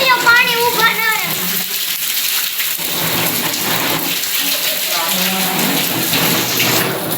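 Heavy rain pours down in a steady, dense hiss that fills the whole stretch, with faint voices and tonal sounds briefly surfacing beneath it.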